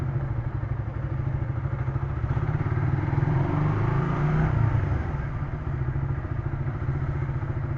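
A motorcycle is ridden slowly into a parking spot, its engine a steady close low putter that swells briefly with some clattering before settling back to idle.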